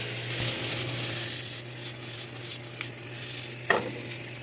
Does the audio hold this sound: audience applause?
no